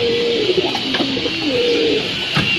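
A pet Telo Giring Keket pigeon coos in a steady, low, drawn-out series of calls, close and clear over a faint background hiss, with no talking.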